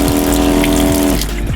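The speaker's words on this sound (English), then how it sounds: "We have a little sink right here that works also off the solar" A solar-powered camper van's small sink water pump runs close by with a steady droning whine and flowing water, then the tone drops and stutters near the end, with no talking.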